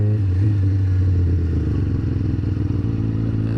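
A Yamaha FZ-07 sport bike engine runs while riding, giving a loud, close, throbbing low drone with a steady pulsing rumble and some light clatter, heard alone without talking.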